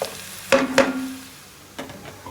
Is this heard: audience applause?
no